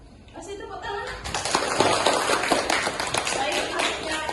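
A classroom of students claps for a classmate, with a burst of hand claps that swells after a quiet start and continues as a loud, dense patter to the end.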